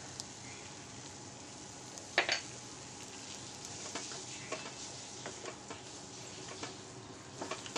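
Thickening puran, a sweet lentil filling with cardamom powder, is stirred in a pot, giving soft intermittent scrapes and clicks of the spoon over a faint, steady sizzle.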